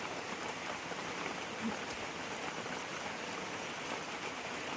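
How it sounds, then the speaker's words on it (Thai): Steady rain pours on a hut roof at Nong Bua, a dense, even hiss of drops lasting throughout with no pauses or voices. "บรรยากาศฝนตกที่หนองบัวนะคะ"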